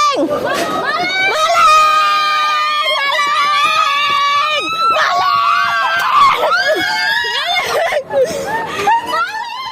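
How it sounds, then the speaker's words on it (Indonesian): Residents in a Palembang street scream and shout at a motorbike thief, loud high-pitched overlapping yells and crowd voices, close and continuous with brief pauses. "Jeritan warga tersebut memancing warga sekitar untuk menangkap pelakunya."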